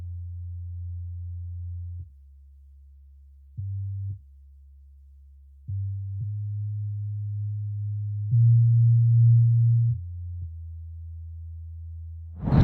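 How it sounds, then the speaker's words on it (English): A simple, pure bass line layered into a beat plays alone as low, sustained sine-like notes that step between a few pitches. "Then I just layer with the bass, this simple bass right here."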